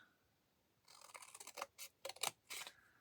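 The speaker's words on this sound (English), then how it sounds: "cut along there, cut along here. Maybe do a little quick fussy cut." Scissors snipping through a note card to trim it, several crisp cuts in quick uneven bursts after a moment of near silence, close and clear.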